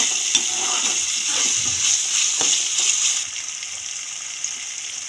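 Spice masala for chicken kofta curry sizzles steadily in a pan, a loud close crackling hiss with occasional soft stirring scrapes and no talking.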